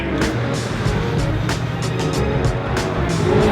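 A Fisher Fury car driving on a racing circuit, its engine giving a steady, loud, continuous drone throughout, with faint passing noises on top.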